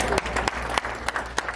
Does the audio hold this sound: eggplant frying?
no